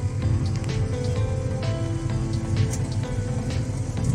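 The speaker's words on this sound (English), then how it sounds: "It's raining in Glenveagh." Steady rain falls in Glenveagh National Park, a dense, continuous patter on surfaces that stays even and close throughout, with no voices.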